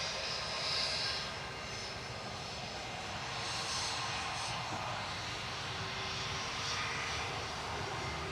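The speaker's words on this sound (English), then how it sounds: "Here goes Welling back to Barcelona with flight 8747 EC MKN A320" A Vueling Airbus A320 classic departs Manchester for Barcelona with a sustained jet engine roar that stays fairly steady and continuous throughout. It sounds moderately distant and no one speaks.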